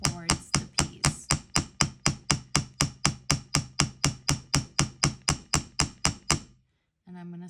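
Hammer tapping metal to shape a lightning bolt paddle charm, about twenty evenly spaced sharp ringing strikes, close and loud, then silence and a brief trailing sound.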